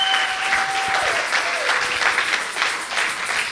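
A church congregation applauds and acclaims the Lord in a dense, steady burst of clapping, with a faint sustained tone and scattered voices blended into the crowd.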